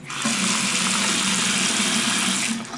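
A bathroom sink tap in a vintage-tiled apartment bathroom runs hard under strong water pressure, a loud steady gush of water splashing into the basin and draining, continuous for the whole stretch with no voices.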